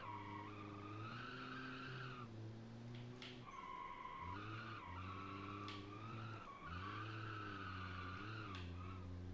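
Low-revving car engine in the BeamNG racing game, a faint humming whine that rises in steady gear steps and drops at each shift, with tire skids and squeals between, vacuum-cleaner-like tone, no talking.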